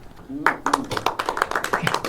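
Scattered hand claps from a small audience, uneven and fairly close, starting after a brief spoken word.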